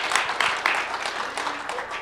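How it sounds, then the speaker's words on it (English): A conference audience at a software panel gives a brief round of applause, scattered hand claps at moderate distance in a large room, lasting about two seconds. "go ahead and give them a round of applause."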